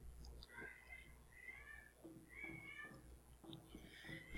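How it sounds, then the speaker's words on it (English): Cats play fighting indoors, letting out a steady series of whiny meows and yowls, about one each second, quiet and somewhat distant over a low background hum. "One of these days I'll be able to record an episode without cats making all sorts of noise."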